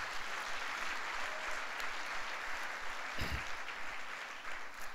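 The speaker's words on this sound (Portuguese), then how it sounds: "Dá um aplauso aí ao Senhor Jesus" A church congregation at a Sunday service applauds in a faint, steady, even wash of clapping that carries on for several seconds, with one brief low thump partway through.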